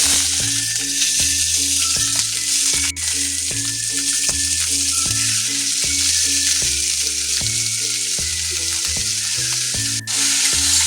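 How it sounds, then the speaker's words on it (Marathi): Finely chopped vegetables sautéing in hot oil with mustard seeds and cumin, a loud steady sizzle throughout with rhythmic tapping and stirring of a utensil in the pan, no talking. "दोन मिनिटं हे तेलामध्ये परतवू द्यायचं।"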